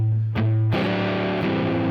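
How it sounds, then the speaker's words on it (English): Electric guitar played on the neck pickup through a nasty, heavily distorted amp tone, a jazzy minor-blues chord lick: two sharp chord stabs followed by a sustained, buzzing chord ringing out loud and alone. "I've selected a hook amp distortion, like a pretty nasty one, some kind of, and playing on the neck pickup."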